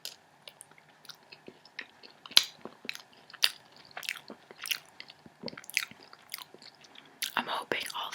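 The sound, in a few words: chewing and eating pizza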